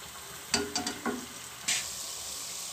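Dahi bhalla lentil dumplings fry in hot oil, a soft steady sizzle punctuated by a few bright clinks and scrapes as they are turned and lifted out.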